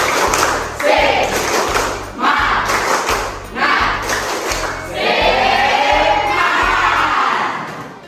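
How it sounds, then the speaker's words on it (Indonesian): A class claps in a steady rhythmic spirit-clapping pattern, bursts of claps in regular beats with voices chanting along in Indonesian, loud and close, in a classroom. "kita tepuk semangat dulu ya untuk mengakhiri"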